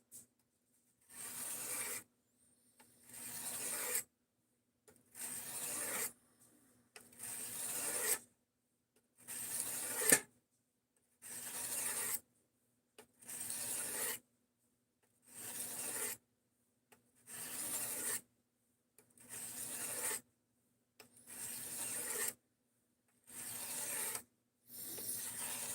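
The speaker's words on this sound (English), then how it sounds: "At the moment, I'm sharpening up the Craftsman knife that we got from" Rhythmic rasping strokes of a Craftsman knife blade drawn across a sharpening stone, about a dozen steady even passes with short pauses between, close and clear with no talk.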